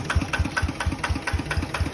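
A Yamaha RT 90 motorcycle with its original engine idles smoothly up close, putting out an even, rapid train of low thumping exhaust pulses with no talking.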